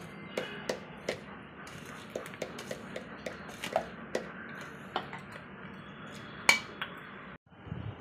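A spoon clinks and taps against a pan while fried dry fruits are stirred into sugar syrup for laddoos, with irregular sharp metallic knocks over a quiet background.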